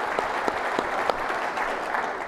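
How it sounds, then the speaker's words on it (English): Audience applause at the 2018 U.S. Naval Institute Annual Meeting, a steady, dense round of clapping from a large crowd that holds at an even level throughout. "Just another round of applause,"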